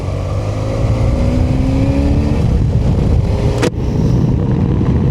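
A Mercury car engine rumbles steadily and loudly like an old 1970s truck, a thick low drone with a brief dropout near the end before the rumble resumes.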